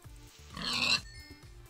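A pig in the video game Beastplay gives a single short grunting squeal, close and fairly clear, over a low, steady game background with no talking.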